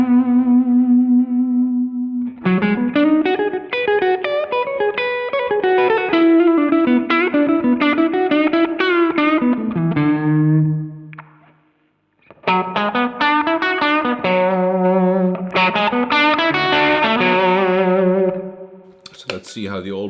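Electric guitar through a Marshall Blues Breaker overdrive pedal, playing mildly driven chords and melodic lines with an open, dynamic tone; a held opening note, a brief pause mid-phrase, then more strummed and picked passages.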